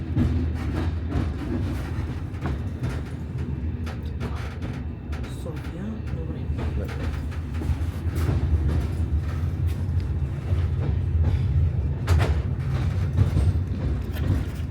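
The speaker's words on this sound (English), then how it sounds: "as the train leaves the station," A train departing Gabrovo for Sofia, Bulgaria, rumbles along with a low, continuous roar and occasional clunks of the carriages, while voices murmur faintly beneath.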